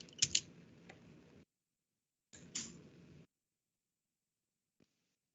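Two short bursts of computer keyboard typing as a command is entered at a server terminal, each with sharp key clicks, separated by silence, followed by one faint tap.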